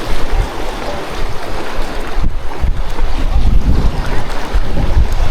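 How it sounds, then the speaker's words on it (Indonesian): Strong, rough sea waves heard from a boat off Sulawesi, a steady loud wash of water and wind noise with heavy low rumble and gusty surges, no clear talking. "Karena terlalu kencang ini ombaknya nih."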